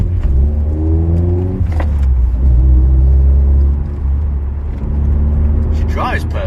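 A Vauxhall Astra engine runs with a loud, steady rumble that swells slightly as it revs, with voices heard over the engine noise.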